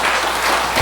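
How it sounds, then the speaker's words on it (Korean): Audience applause in a Buddhist temple lecture hall, a steady wash of clapping filling the short moment, loud and close. "부처님한테 박수 드려야 돼, 진짜."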